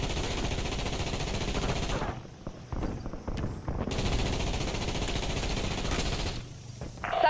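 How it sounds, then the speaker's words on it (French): Rapid sustained gunfire in the Warzone video game, dense automatic bursts that pause briefly and then resume loudly, ending in a final short flurry. "Salve de 16 cartouches envoyée."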